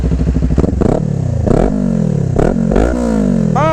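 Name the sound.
motorcycle engine starting and revving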